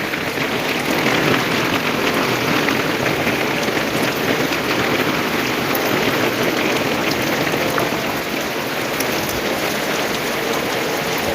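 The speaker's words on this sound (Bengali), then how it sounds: "বৃষ্টি জোরে নামছে" Heavy rain pours down in a city street, a dense, loud, unbroken hiss of drops hitting surfaces that holds steady throughout.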